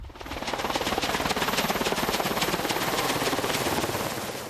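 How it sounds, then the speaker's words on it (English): Military helicopter arriving, rotor blades beating in a fast, loud, steady chop that swells as it draws near, dominating everything else. "This morning, a helicopter arrived to take documents seized from the Iraqi army in the south back to headquarters"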